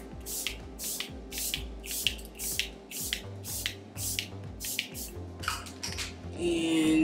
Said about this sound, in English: now we're gonna spray again with the Charlotte Tilbury